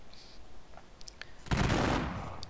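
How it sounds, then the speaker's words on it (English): Regiment musket volleys in a strategy war game crackle out as a dense burst of overlapping gunfire after a few scattered clicks, loud and close, then fade over the following second. "each section of the regiment's fired independently"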